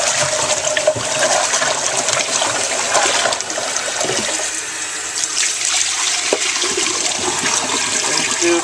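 Cloudy rinse water pours steadily out of a container while food, likely rice, is being washed, a continuous loud splashing gush running unbroken.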